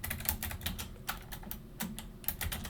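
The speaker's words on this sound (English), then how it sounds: "I'm going to type in, actually it's going to be router OSPF" Rapid keystrokes on a computer keyboard during Cisco router OSPF configuration, a steady irregular patter of close, crisp clicks with no voices.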